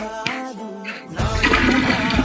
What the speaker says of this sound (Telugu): ఇది పురుషుల బాత్రూము ఇక్కడ వాటర్ వస్తుంది